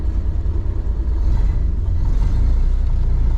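A 1930 Ford Model A coupe's engine pulls away with a loud, steady low rumble that swells slightly as the car gets moving, with no voices over it.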